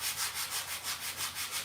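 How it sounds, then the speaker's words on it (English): Fine sandpaper rubs back and forth along a track in quick, even strokes, producing a soft, rhythmic, hissy scraping about six times a second, close and fairly faint with no talk. "It's cleaning that track just up. I got this fine sandpaper."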